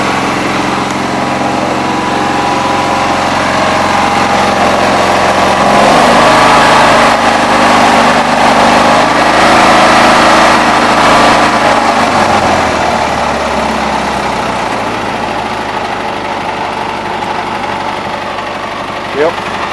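International Harvester Cub Cadet 782 garden tractor engine idling steadily at about 1200 RPM after an electric fuel pump conversion, a loud close continuous drone that shifts pitch briefly midway, with a voice speaking over it.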